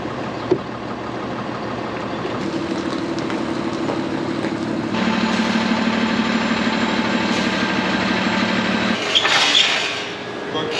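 A Tiffin Allegro Bus diesel motorhome engine drones steadily nearby while the coach backs up, with a backup tone sounding over the low rumble and a voice talking briefly.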